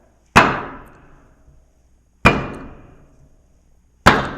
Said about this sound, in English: I'm just lifting up the casting and letting the axle hit a 2x6 that I have down on the ground.